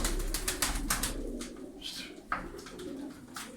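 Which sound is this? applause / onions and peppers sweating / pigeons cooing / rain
pigeons cooing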